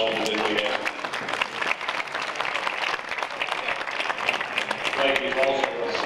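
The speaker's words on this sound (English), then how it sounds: "please join me in giving Mike Maynard and the staff of Angel Food Catering a warm round of applause" An audience at a school hall of fame dinner gives the catering staff a warm round of applause. The clapping is steady and sustained throughout, and a voice talks over it.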